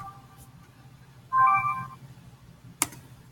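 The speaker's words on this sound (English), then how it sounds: "I got to answer a phone call" A phone ringtone sounds briefly, a short melodic trill of about half a second over a quiet room hum, followed by a single sharp click.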